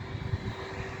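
A large airliner at an airport gives off a steady, droning engine rumble with a constant hum, moderately loud and heard alone for a brief moment.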